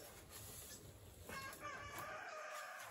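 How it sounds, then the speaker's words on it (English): A rooster in an East Tennessee backyard flock crows once at moderate distance, clear against a quiet background with no talking. "one of my roosters wants you to know he's a rooster."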